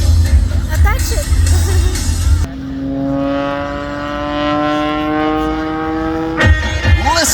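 An aerobatic airplane tumbling on the upline at an air show roars overhead with a steady rising engine drone and a sweeping Doppler-like pitch shift, framed by crowd babble and an announcer's voice before and after.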